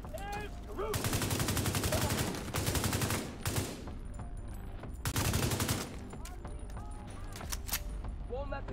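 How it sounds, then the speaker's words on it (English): Rapid automatic turret fire in Tom Clancy's The Division 2, loud sustained bursts of shots with brief pauses between volleys, over a busy mix of game effects and a speaking voice. "Turret going a little bit, give us some help."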